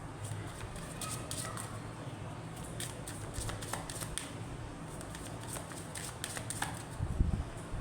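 Tarot cards are shuffled close by, a steady soft riffling and rustling that runs through the whole stretch with no break, fairly quiet and heard alone.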